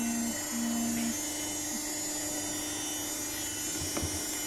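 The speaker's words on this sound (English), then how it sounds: "So this is our hydraulic H-frame power operated hydraulic press." A hydraulic H-frame power-operated press with its power pack runs as a low, steady motor hum at moderate distance, even and unbroken, with a faint knock near the end.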